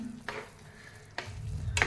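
Brinjal curry bubbling in a pan, a close, soft sizzle broken by a few short stirring scrapes, with no one speaking.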